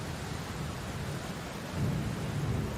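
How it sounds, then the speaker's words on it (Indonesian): Heavy rain with rumbling thunder in a storm, a dense steady roar of downpour with a low rolling swell of thunder rising in the second half. "hujan semakin deras, angin semakin kencang, kilat dan petir menyambar-nyambar"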